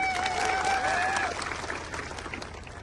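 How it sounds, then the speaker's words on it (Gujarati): Crowd applause at a political speech in Dahod, a dense wash of clapping that fades gradually over about three seconds, with faint whistles early on. "બધા માટે એકવાર આપણે જોરદાર તાળીઓ પાડીએ"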